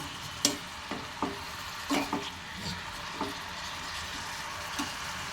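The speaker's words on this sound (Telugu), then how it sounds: "వేసి బాగా కలపాలి. బాగా కలిపిన తర్వాత" Ridge gourd chutney ingredients being stirred and mixed in a pan, heard as a series of distinct scraping strokes over a soft background sizzle.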